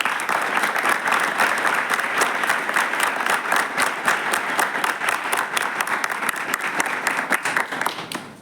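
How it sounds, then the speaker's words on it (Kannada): An audience at an indoor stage event for a promotion ceremony claps loudly and steadily, sustained applause filling the hall without any speech over it. "ಸಾರ್ಗೂ ಬಿಗ್ ಕ್ಲಾಪ್ಸ್."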